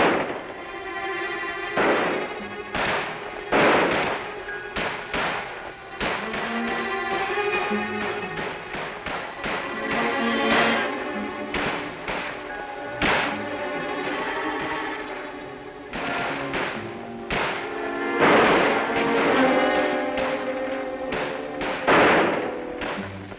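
Blank ammunition is fired during an infantry exercise, heard as repeated sharp cracks and thuds at an irregular pace over a dense bed of orchestral music.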